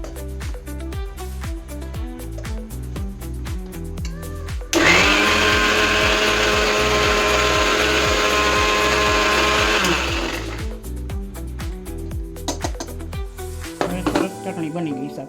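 A mixer grinder crushes green chutney ingredients with green chili and a little water, giving a loud, steady whirring grind of about five seconds over soft background music.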